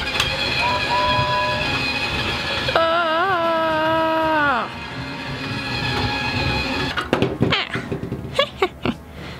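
A cartoon train pulls away: a steady rumbling hum with a long tonal whistle that bends and fades, then sharp clanking and clattering bursts toward the end, fairly loud throughout.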